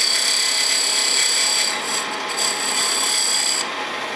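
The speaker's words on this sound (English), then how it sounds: "my little straight-edged skew chisel, and I go into the back of the tenon here and take some out" A straight-edged skew chisel cuts into the back of a wooden tenon spinning on a lathe, producing a continuous close, hissing rasp that briefly dips and then eases as the cut ends.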